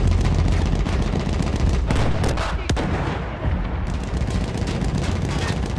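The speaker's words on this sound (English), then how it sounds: "Who is firing, man?" Heavy gunfire in Battlefield 1 crackles almost nonstop, loud, close bursts and booming shots layered into a dense battle din with little pause.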